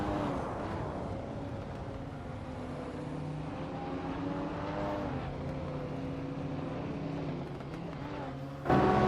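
A 2012 BMW M5 engine in a racing video game, a steady droning tone whose pitch rises and falls slightly as it holds speed, with faint voices beneath and a sharp thump at the end.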